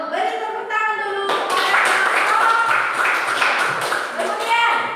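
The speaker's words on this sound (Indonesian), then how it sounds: "beri tepuk tangan dulu" Classroom applause, a burst of many hands clapping together that carries on steadily for several seconds, with voices over it at the start.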